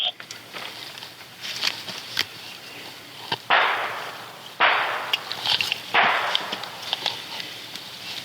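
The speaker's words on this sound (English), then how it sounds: "Baker, when we have more gunshots going off." Several sharp, loud gunshots ring out at irregular intervals in a neighborhood shooting, with a few bursts about a second apart, over a background of murmuring voices and outdoor noise.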